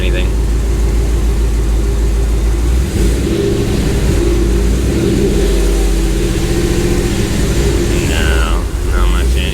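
A Hemi-swapped Dodge RAM 1500 pickup's V8 idles and hums in gear with a low, steady throb and slight rises in pitch, close and continuous, while people talk over it.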